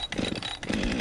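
A first-generation Husqvarna 550 chainsaw with a 50 cc engine runs steadily while cutting a tree. It is a continuous, moderately distant buzzing drone with no talking.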